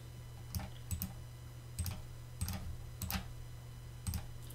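Typing a command on a computer keyboard for a Raspberry Pi 5, soft close clicks in small irregular clusters over a low hum, faint and without talking.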